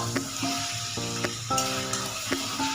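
Chicken and potato pieces sizzle steadily in a hot pan, with a constant frying hiss and a few brief scrapes from stirring. No one speaks.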